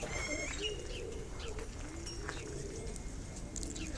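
Pigeons in a loft make soft, low cooing calls scattered through the clip, with occasional chirps and faint fluttering over a steady ambient hum.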